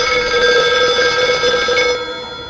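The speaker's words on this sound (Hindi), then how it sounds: "शायद प्रीति को रिंग गया हो और उसी ने पलट के फोन किया हो" A telephone bell rings loudly and continuously, a bright metallic trill that fades a little at the end, with no voices.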